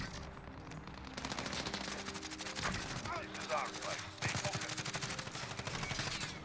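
Sustained bursts of light machine gun fire from a first-person shooter, rapid dense rattling that runs almost continuously with brief gaps, loud and close, with other game sounds layered underneath.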